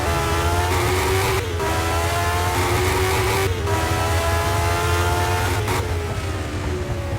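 Race cars in a GP racing video game drive with a sustained, loud engine whine, and the pitch drops briefly at a few gear shifts along the way.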